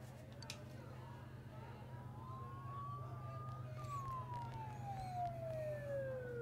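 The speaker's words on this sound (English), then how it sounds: "Don't those sirens sound really close?" Police sirens in the video game Persona 4 Golden wail faintly from a distance, one long rising then falling tone sweeping over a steady low hum.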